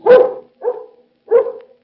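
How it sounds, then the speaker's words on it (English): A vicious ranch dog barks in a radio crime drama, three loud, close barks alone: one long snarling bark, then two shorter ones spaced about half a second apart. "They were greeted by the vicious barking of the dog, Rex."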